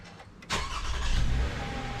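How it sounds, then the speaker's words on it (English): A 2016 Toyota Sienna XLE engine cranks and catches with a sudden burst, then settles into a steady, fairly quiet idle rumble close by after a hushed start. "Starting up the car."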